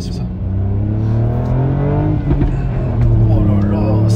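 A Ford Fiesta ST MK8 accelerates hard with its front tyres spinning, the engine note rising loud and close inside the cabin while occupants talk over it.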